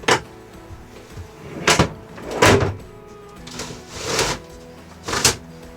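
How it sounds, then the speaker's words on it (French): A door on a Mercedes Sprinter L3H2 camper van is worked shut, with several sharp clunks and thuds spaced about a second apart at close range. "Après avoir fermé la porte"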